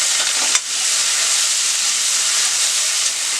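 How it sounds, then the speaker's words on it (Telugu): Onions frying in a pan with black soy sauce, a loud, steady hissing sizzle that holds throughout, with a brief sharp spike near the start. "మన ఆనియన్ కొంచెం వేగిన తర్వాత దీంట్లోకి అన్నింటిలో కూడా ఒక spoon soya sauce black soya sauce"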